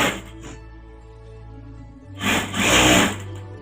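Sewing machine stitching a bag runs with a steady motor whir, then revs up louder and faster for about a second before easing off, close and alone.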